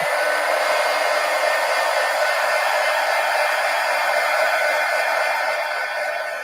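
A heat tool blows steadily and loudly for the whole stretch to dry wet paint on an art journal page, a continuous airy roar that eases off slightly at the end.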